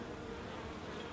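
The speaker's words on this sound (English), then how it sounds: "there's a bee on me" Honey bee buzzing close by in a spring apiary during hive work, a steady, faint, continuous drone.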